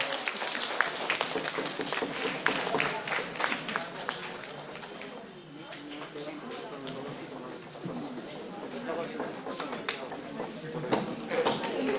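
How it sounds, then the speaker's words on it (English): Applause for a felicitated teacher at a college Women's Day prize distribution, moderately distant scattered clapping that continues for several seconds over crowd murmur and some talking. "So give her a big applause."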